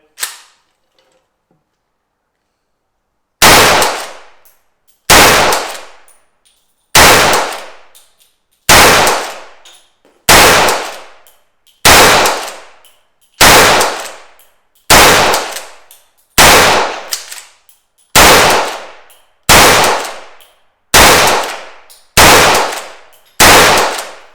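A Ruger 96/22M lever-action rifle fires about fourteen sharp, loud cracks at a steady pace of roughly one every one and a half seconds, each with a short ringing tail. No one speaks.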